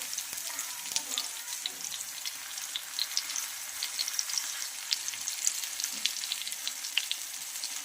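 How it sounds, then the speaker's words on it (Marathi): Coated eggplant slices fry on a flat tawa griddle, producing a close, continuous crackling sizzle with frequent sharp pops of hot oil throughout. "तर एक साईड आपले फ्राय झालेले आहेत तर दुसऱ्या साईडमध्ये आपण फ्राय करून घेऊया तर इथं बघू शकता अतिशय छान असे आपले बैगन फ्राय होत आहेत"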